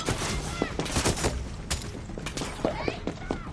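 Rapid bursts of gunfire in Far Cry 6, a dense cluster of close cracks and thumps over a few seconds mixed with game noise and chatter.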